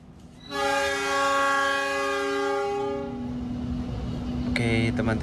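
A passenger train departs from Babat station in Indonesia, sounding a long, loud, sustained horn close by. The horn then fades into a rumble of rolling stock, and a brief second horn blast comes near the end.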